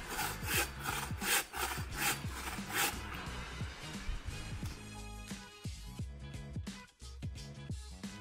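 A hand saw cuts wood at a lakeside camp by Lake Vättern in Sweden, its close, rhythmic back-and-forth rasping strokes repeating steadily throughout.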